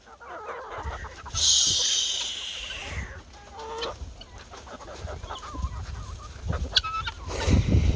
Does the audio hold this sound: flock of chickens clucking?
yes